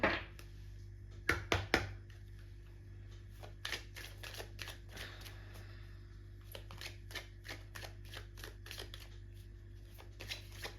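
Tarot cards are riffled and drawn in a quiet room: a few loud shuffling bursts near the start, then a long run of softer snapping card flicks and slides over a low steady hum, with no talk.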